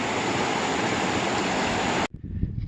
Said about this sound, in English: I've reached the Whitewater River, so the trail crosses this